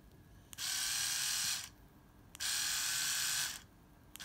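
A repaired Philips electric shaver motor buzzes in two bursts of about a second each, switched on and off with short silent gaps between, a steady high-pitched whine close to the microphone, with no talking.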